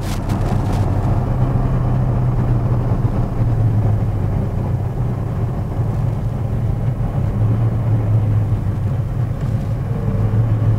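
A 1966 Chevrolet Chevelle SS396 with a big block V8 and 4-speed rumbles along on the road, its exhaust a deep, steady low growl with a droning hum, continuous and close throughout.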